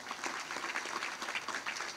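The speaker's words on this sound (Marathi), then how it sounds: "आयांनी पहिल्यांदा टाळ्या वाजवायला काही हरकत नाही" An audience of women claps at a lecture, a dense brief burst of applause from a crowd, moderately loud and even across the moment.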